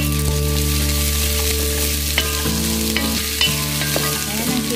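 Onion and vegetables sautéing in a pan for a sour fish stew: a steady, close, loud sizzle throughout, broken by several sharp clanks of a utensil stirring against the pan.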